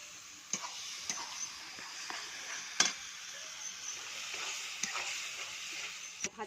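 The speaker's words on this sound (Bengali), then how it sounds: "ভাজা ভাজা হচ্ছে" Tomatoes fry in a pan over an outdoor cooking fire under a tree during a village Kali puja picnic, giving a faint, steady sizzle with scattered clicks and sharp taps of stirring.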